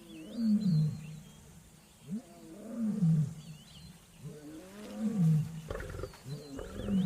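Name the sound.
lions roaring in the wild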